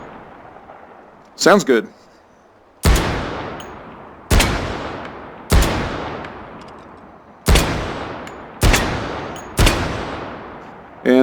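Weapon fire in the VR shooting game H3VR: six loud, sharp gunshots spaced about a second or more apart, each with a ringing decay, following a brief mechanical clack, with a voice speaking briefly before.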